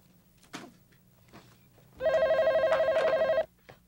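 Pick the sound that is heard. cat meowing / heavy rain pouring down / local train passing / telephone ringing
telephone ringing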